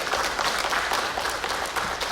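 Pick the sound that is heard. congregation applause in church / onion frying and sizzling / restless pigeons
congregation applause in church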